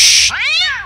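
A short hissing burst gives way to a single, clear, upward-then-falling cartoon cat meow lasting about half a second, close and loud.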